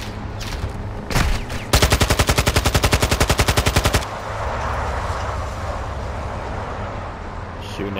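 Rapid automatic gunfire from Modern Warfare 2 Remastered, a loud sustained burst of evenly spaced shots lasting about two seconds after a couple of single cracks, then fading into a low rumbling battlefield ambience.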